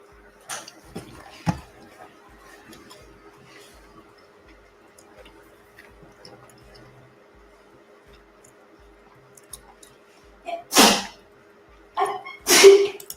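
Two short, sharp sneezes burst out close to the microphone near the end, following a long stretch of near-quiet room tone with faint clicks and a low steady hum.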